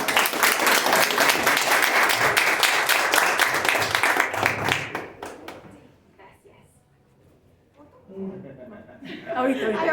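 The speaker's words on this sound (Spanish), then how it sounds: "Un aplauso, por favor." An audience at a book presentation bursts into loud, dense applause lasting about five seconds, thinning to scattered claps and quiet before people begin talking.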